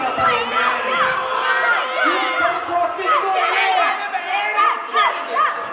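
Feisty wrestling crowd in High Point at a heavyweight title match, a dense wall of shouting, jeering and excited voices, loud and continuous throughout.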